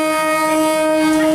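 A train horn sounds loud and close as the train comes right through a busy street market, a steady sustained harmonic blare over rumbling rail noise.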